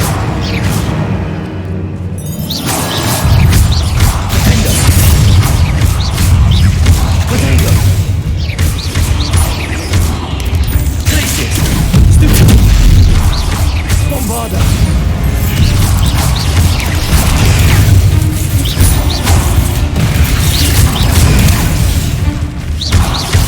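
Repeated booming blasts and crashing impacts from the Bombarda spell in the video game Hogwarts Legacy, loud and dense over a continuous game mix, with a voice shouting spell names at intervals.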